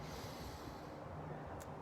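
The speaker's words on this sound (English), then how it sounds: "Go ahead and take a deep breath into that." A slow, deep inhale of breath: a soft, continuous airy rush lasting about two seconds. It is quiet and close, with no other sound around it.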